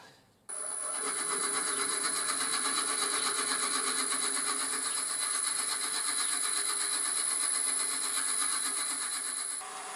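A drill grinds steadily into apricot wood with a constant high whine, loud and close, running without a break for about nine seconds.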